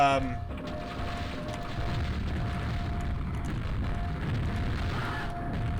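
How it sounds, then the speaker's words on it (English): Explosions burst in a video game level, a continuous rumbling barrage of booms under a steady droning tone, with a speaking voice mixed in. "Glorious, glorious explosions everywhere."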